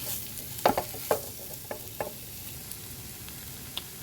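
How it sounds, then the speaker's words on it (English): Mushrooms cook down in a pan for gravy under a steady low sizzle, with a few distinct stirring knocks and scrapes spaced out over a few seconds. "we're going to go in with our mushrooms, okay? I'll let these cook down"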